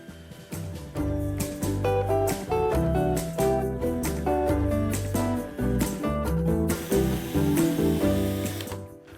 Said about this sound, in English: I'm just going to drive a couple of screws in the corners where the mitre cuts are.